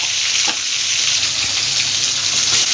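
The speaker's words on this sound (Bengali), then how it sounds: "ওই তেলের মধ্যেই সামান্য একটু কালো জিরে ফোড়ন দিলাম" Black cumin seeds sizzling in hot oil while tempering for a snake gourd dish, a steady loud crackling hiss that fills the whole stretch with a few sharp pops, with no voices.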